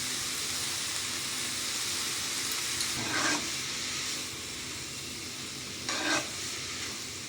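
Vegetables and beans salted in a pan fizz with a constant frying hiss, while a utensil stirs and scrapes through them in two short bursts.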